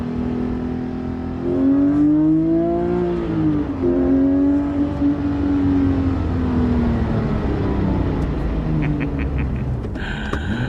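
A Porsche 997.2 GT3 RS engine revs up through rising gear pulls, loud and close from inside the car, sustained for several seconds before easing off, with a few brief high chirps near the end.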